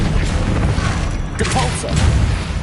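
A Revelio spell cast in Hogwarts Legacy on PS5: a dense, rumbling magical whoosh with a bright shimmering sweep partway through, loud and sustained over steady game ambience.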